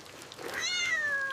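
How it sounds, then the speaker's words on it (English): A neighbour's cat sheltering from the rain gives a single short rising meow, fairly close over a quiet background. "It is the neighbor's cat."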